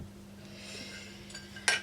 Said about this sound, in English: And then I'll put the lid on.